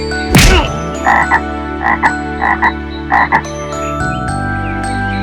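A cartoon frog, in a children's animated story where it has a hurt leg, croaks in loud, close, rhythmic bursts of paired ribbits over a sustained musical background.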